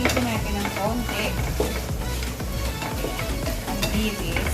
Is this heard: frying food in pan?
yes